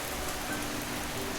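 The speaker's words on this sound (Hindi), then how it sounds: "इतनी तेज बारिश शुरू हुई कि रास्ता ही दिखाई नहीं दे रहा था" Heavy rain pouring down steadily as a horror story sound effect, a dense continuous hiss of falling water with no voices.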